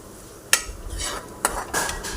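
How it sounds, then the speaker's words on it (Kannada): Lemon rice (chitranna) is stirred and fried in a pan, with two sharp metallic clanks of a ladle against the pan and soft scraping between them, close and clear with no talk. "ಈ ಥರ ನೀಟಾಗಿ ಫ್ರೈ ಮಾಡ್ಕೊಳ್ಳಿ"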